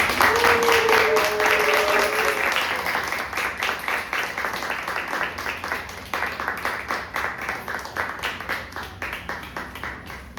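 A church congregation at a Sunday worship service claps steadily, the applause slowly thinning and turning into more distinct individual claps toward the end.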